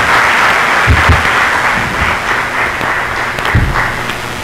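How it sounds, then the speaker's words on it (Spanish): Steady applause from an audience thanking candidates at a UNED event, a dense even wash of clapping held at a constant level throughout. "Con un fuerte aplauso agradecemos a las personas candidatas"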